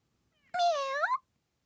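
An animated cat in a Puss in Boots story gives a single clear, rising-and-falling meow, lasting about two-thirds of a second against silence.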